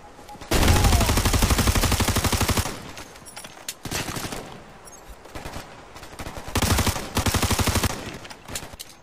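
Rapid automatic gunfire in the video game Ghost Recon Future Soldier, a loud sustained burst followed by shorter bursts of rattling shots with brief pauses between them.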